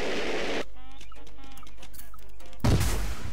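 Bright bursts of noise open and close a short stretch of sparse crackling pops and whistling tones, like game fireworks going off in Goat Simulator.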